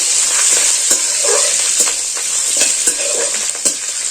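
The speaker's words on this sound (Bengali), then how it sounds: "এবার একটু এটাকে আমি নাড়াচাড়া করে ভেজে নেব" Mustard seeds and curry leaves are stir-fried in a pan, giving a loud, continuous hiss with sharp intermittent spatters and stirring knocks throughout.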